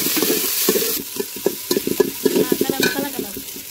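Onions fry in a pan for Bihari-style egg curry, a steady close sizzle with a run of quick spatula clatters and scrapes against the metal growing busier toward the end.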